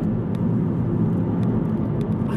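An Aston Martin Virage engine while driving on a countryside road, a steady, deep, rumbling drone heard from inside the car, continuous and fairly loud.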